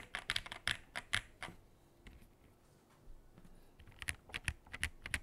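Keystrokes on an MW75 R1 polycarbonate gasket-mount mechanical keyboard: quick clusters of crisp, close clicks and clacks, a quieter lull in the middle, then another fast run of typing.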